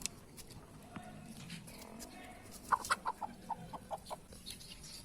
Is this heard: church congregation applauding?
no